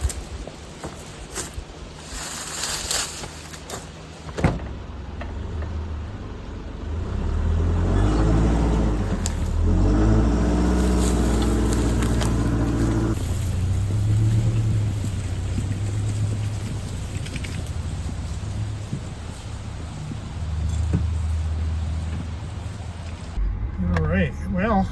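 A car hauling a load of firewood drives off with a steady low engine rumble and tire noise that builds and holds, with a person speaking at times.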